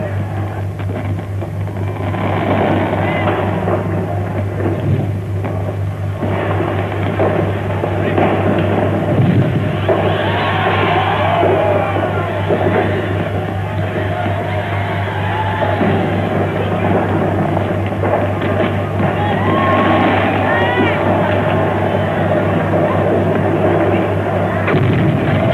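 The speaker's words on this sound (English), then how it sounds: "a fabulous and colorful fireworks display commences" A fireworks display at a Uganda independence celebration just after midnight, with repeated booms and crackling bursts over a steady crowd murmur and a constant low hum.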